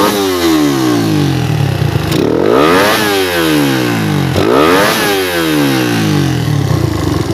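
A loud carbureted motorcycle engine with a PE carburetor revs hard several times, each rising whine climbing to high rpm and then dropping back cleanly, close to the microphone.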